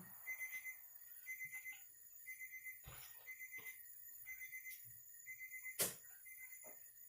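A kitchen timer alarm rings faintly while chicken thigh adobo cooks, with a thin repeated beeping in short groups over a quiet background and one sharp click or knock near the end.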